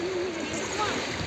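Sea water washing and splashing over feet at the shore, a steady broadband wash of surf and splatter lasting throughout, with faint voices in the background.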